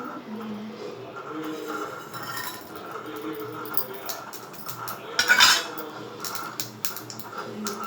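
Mustard seeds, urad dal, chana dal, cumin and a dried chili go into a pan for tempering. Metal spoon clinks and scrapes against the pan, with one louder clattering rattle midway.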